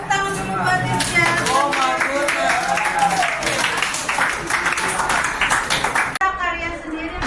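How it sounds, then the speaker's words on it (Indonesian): Classroom children clap hands together for a classmate, steady clapping mixed with lively voices and a teacher talking throughout, ending abruptly near the close. "tepuk tangan dulu buat Rizka"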